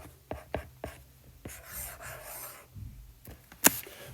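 Handwriting on a board for a math lesson, a close series of short scratchy strokes and taps, then a longer rubbing stretch and a final sharp tap, with no talk.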